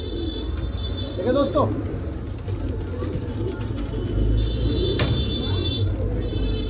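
Pigeons coo softly at a pigeon seller's stall amid low rumbling traffic and engine noise, with someone speaking briefly over the birds.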